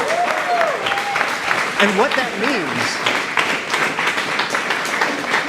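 Audience at a retail auto company launch event clapping steadily throughout, a dense wash of applause with a voice speaking briefly over it.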